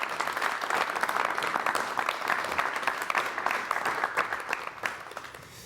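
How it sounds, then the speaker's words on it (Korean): A studio audience at a 1987 Korean television talk show claps steadily to welcome a veteran journalist, a dense, sustained wash of applause that holds at full strength and then eases slightly toward the end. "여러분 박수로 환영해 주시면 대단히 고맙겠습니다."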